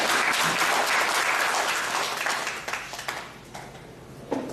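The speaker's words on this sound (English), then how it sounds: "Let's give a big round of applause." An audience at a Toastmasters club meeting claps in loud, dense applause that thins out and fades over the last couple of seconds, with a few scattered late claps.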